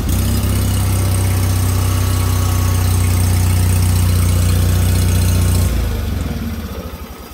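A Wheel Horse 416-H garden tractor engine idles close by in a loud, steady, even rumble, then shuts off near the end and fades to quiet.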